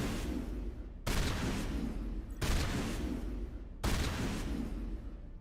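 Gunfire in Mass Effect aimed at a turret, sustained loud bursts of shooting in a few long stretches separated by brief cutoffs.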